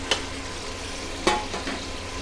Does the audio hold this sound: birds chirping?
no